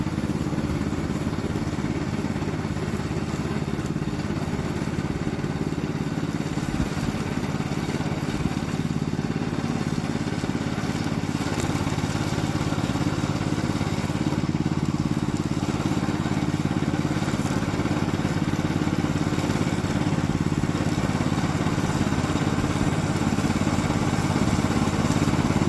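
Gasoline engine of a remote-controlled hybrid lawn mower runs steadily and loudly throughout, a continuous mid-pitched drone with mechanical clatter and no talk.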